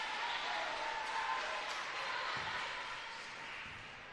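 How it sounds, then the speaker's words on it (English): A crowd of spectators at an under-20 netball game in the Samsung Premier League fills the hall with a steady wash of murmuring and faint applause, fading slightly toward the end. "You can hear we've got a healthy crowd here tonight in support."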